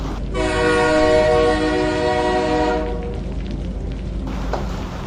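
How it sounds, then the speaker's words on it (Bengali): A train rumbles along nearby with a loud sustained horn blast at the start, then the steady roll of the cars continues. "ট্রেন চলছে তো চলছেই"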